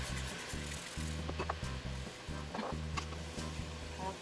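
Wine sauce for shrimp scampi simmers and sizzles in a pan, with a steady bubbling hiss and a low rhythmic thumping underneath and no speech.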